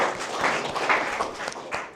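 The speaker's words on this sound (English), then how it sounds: "a round of applause for our presenter from Eriks" Audience at a DevOps and AI tech meetup gives a short round of applause for a presenter, a steady patter of many hands clapping at moderate distance.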